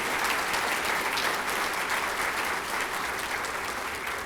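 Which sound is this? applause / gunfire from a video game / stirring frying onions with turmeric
applause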